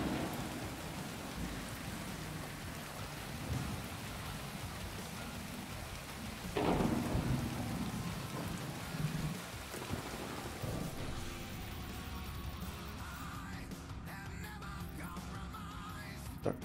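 Steady rain hiss from the video game Tom Clancy's The Division 2, a continuous wash of falling rain at even loudness with a brief louder swell midway and faint background tones near the end.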